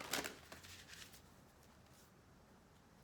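Tarot cards being shuffled by hand make a quick burst of papery riffling and flicks, then quieter scattered card sounds fading into near silence, soft and close.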